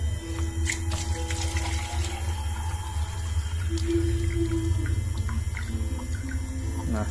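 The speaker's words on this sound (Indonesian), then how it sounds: "ini kita tinggal tambahin air aja ya" Water is poured into a small hydroelectric power model with a pump, a steady splashing trickle and running water that continues throughout over a low rumbling background.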